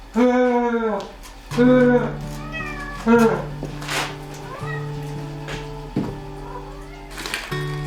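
A stray cat meows repeatedly at close range in a snowy Nari Basin home on Ulleungdo in winter. Several drawn-out, wavering cries come with short pauses between them, and softer sounds continue in between.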